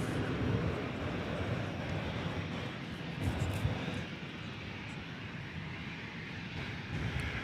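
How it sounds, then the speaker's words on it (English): A Delta Airbus A319 jet at DFW Airport roars as a steady, broad, distant rumble that holds evenly throughout, with no voices over it. "Delta Flight 439, it's an Airbus A319 going to Los Angeles"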